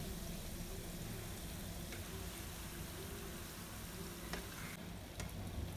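Sweet shankarpali, a crisp Diwali pastry, deep-frying in hot oil, giving a steady dense sizzle and bubbling that holds at an even level throughout, close and alone with no talk.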